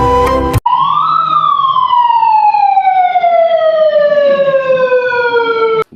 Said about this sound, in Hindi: अलर्ट रहे, सायरन बज रहा है।